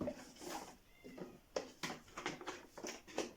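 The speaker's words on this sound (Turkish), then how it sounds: "Kedim bağırıyor." A pet cat yowling indoors, a string of close, insistent meows and drawn-out cries repeating in quick succession, fairly faint and with no talk over them.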